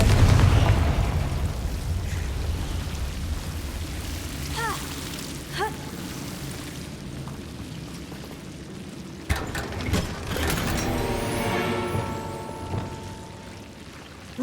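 Confringo spell explosions in the Hogwarts Legacy video game burst out in fiery blasts, with a few sharp pops and a rumbling roar of several booms late on, over a continuous bed of game noise.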